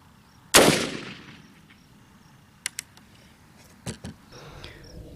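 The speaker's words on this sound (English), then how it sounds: "I'm going to take one more shot and call it a day." Single rifle shot fired at a target outdoors, one loud sharp crack with a decaying tail, followed by a few faint small clicks and taps in otherwise quiet surroundings.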